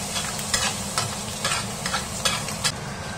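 Spicy, numbing chili sauce sizzles in oil in a wok as a spatula scrapes and stirs it in a steady rhythm, close and moderately loud.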